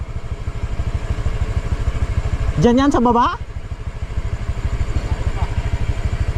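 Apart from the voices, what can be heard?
Honda Click scooter engine on muddy road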